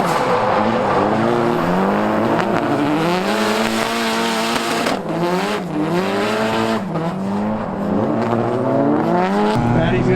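Loud, sustained engine note from a 600hp KA24DET Nissan 240SX under way, climbing and dropping through repeated revs and gear changes with some tire squeal, while people talk under the engine.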